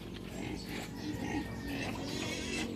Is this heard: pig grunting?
yes